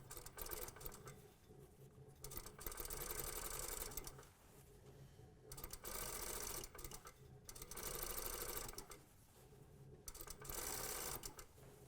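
A sewing machine stitches the hem of a pair of trousers, running in long steady bursts of close, even whirring and clatter separated by short stops.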